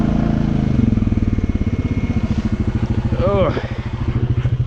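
Motorcycle engine running while riding through Hurricane Ian winds, a steady pulsing mid-range drone with clutch clatter and shifting revs, wind buffeting throughout and a brief grunt from the rider.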